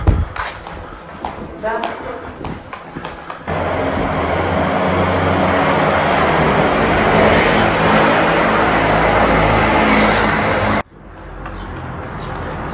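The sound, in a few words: cars passing through a tuff rock tunnel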